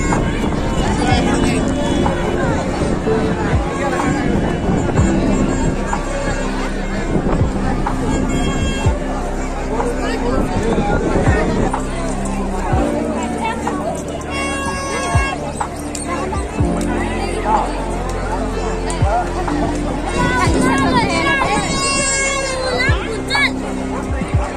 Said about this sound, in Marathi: तर बघा किती गर्दी आहे.